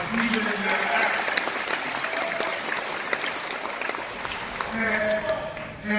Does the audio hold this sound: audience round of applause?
yes